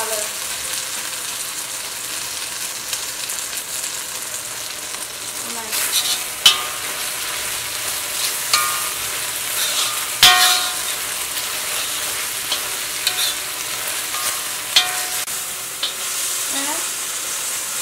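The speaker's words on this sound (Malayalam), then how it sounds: "ഇതൊരു ഫ്രൈ ചെയ്തിട്ട് എടുക്കാട്ടോ." Beef frying in a pan for a home-cooked special meal, with a steady close sizzle throughout and intermittent scraping and knocking of a spoon stirring the meat.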